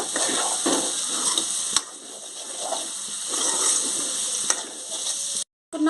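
Bottle gourd curry sizzles steadily in a pan for several seconds, a continuous frying hiss with faint stirring clicks and a brief cut to silence near the end.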